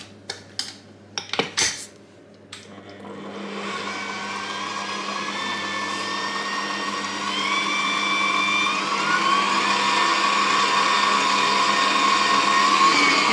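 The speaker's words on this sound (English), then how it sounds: "So this is going over to my mixer and it's going to get mixed up. I've put my whisk on because I want it to all whisk up." A stand mixer fitted with a whisk beats ginger cake batter. A few sharp clinks of metal come first, then a steady motor whir builds with a whining tone that rises slightly, close by and alone.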